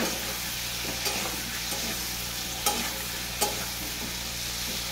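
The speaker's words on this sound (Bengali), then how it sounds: "আমি আলুটাকে এভাবে নেড়ে চেড়ে নেবো" Potatoes stirred with salt in a frying pan: a constant hissing sizzle up close, with a spoon scraping and two louder clanks against the pan, steady and unbroken, no voices.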